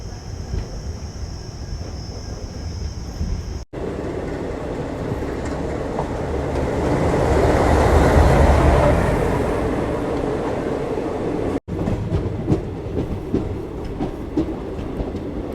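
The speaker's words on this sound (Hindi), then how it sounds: "तो फिलहाल भैया 26 मिनट रुकने के बाद हम डिपार्ट कर रहे हैं पूर्णा जंक्शन रेलवे स्टेशन महाराष्ट्र के।" Akola-Kacheguda InterCity Express pulling out of Purna Junction, Maharashtra, heard from on board: a steady loud rumble of wheels and carriages that swells midway, with faint rail clatter and no voices.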